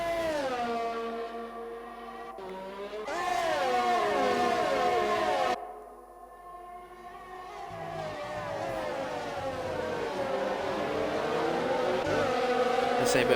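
Formula 1 cars race in the F1 2020 video game, high-pitched engine whines rising and falling through gear shifts as cars pass in a battle for position, loud and continuous.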